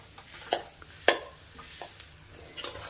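Boiled potato and beet being mashed in a pan with a wooden dal masher, heard as a few scattered soft thuds and scrapes, one sharper knock standing out, over a quiet background.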